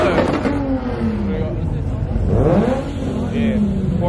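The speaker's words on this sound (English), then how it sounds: "we got fires out the hood over there" A car at a car show revs its engine while shooting flames, a loud rising roar under a crowd and several people talking nearby.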